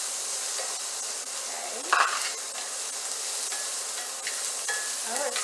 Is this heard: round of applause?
no